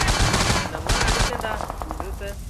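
Rapid automatic gunfire from a video game battle, dense bursts of shots filling the first half, then sparser rattling fire with a few sharp reports; loud and continuous throughout.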